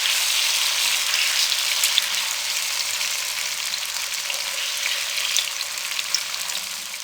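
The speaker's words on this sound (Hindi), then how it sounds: "देखिए कितने अच्छे तरीके से फ्राई हो रही हैं" Gram flour khandliyan frying in a pan over a low flame, giving a continuous bright crackling sizzle that stays steady and close from start to finish with no voices.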